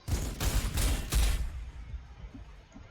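Armor-piercing rounds fired at a Soul Grinder in Warhammer 40,000: Sanctus Reach, a quick volley of four heavy thumping shots over about a second and a half, fading into a quiet low tail.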